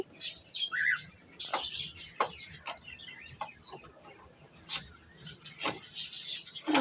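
Birds, including pigeons and lovebirds, chirp and tweet around Michael Church in Tenkasi, bright scattered calls coming in irregular bursts, some close and fairly loud, over a quiet background.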